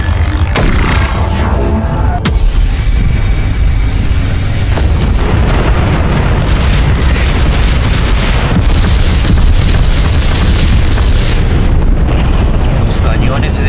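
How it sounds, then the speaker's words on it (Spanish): A continuous, dense artillery bombardment of heavy booming explosions, loud and rumbling without pause, with sharper blasts punctuating the roar. "una pared ondulante de explosiones coordinadas surgió de la arena."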